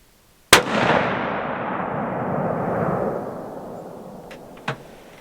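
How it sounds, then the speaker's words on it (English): A .243 rifle fires a single sharp, loud shot at an outdoor range, and its report rolls away in a long fading echo; a smaller distant pop follows near the end. "We're going to shoot another shot"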